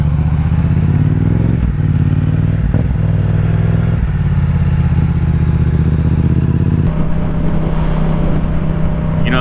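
A motorcycle ridden late at night roars loud and close, its engine holding a steady throbbing drone with brief revving changes and a clattering shift in tone near the end, with wind rushing throughout.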